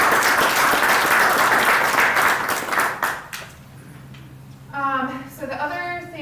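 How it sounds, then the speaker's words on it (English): An audience at a community society's annual meeting gives a dense round of clapping that fills the room for about three seconds and then fades out, followed by a person talking. "So yeah, a round of applause."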